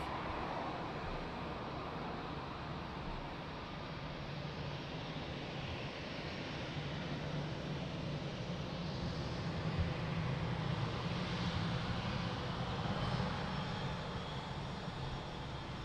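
A jet airliner touches down late after a long float at Lisbon Airport, its engines a loud, sustained broadband roar that swells slightly toward the middle and holds steady throughout.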